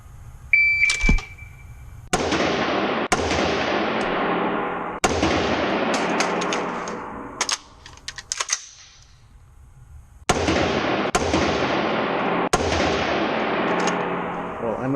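Seven sharp, loud gunshots go off at an indoor gun range, each followed by a long echoing decay, coming singly or in quick pairs with one longer quiet stretch between groups.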